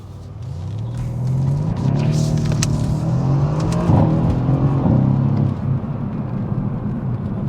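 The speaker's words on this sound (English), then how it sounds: "you can do an easy little power slide or drift" A Mercedes-AMG C 63 S Cabriolet power sliding, its engine revving hard with a deep, steady rumble and rising, wavering growl through the drift, close and loud with no talking.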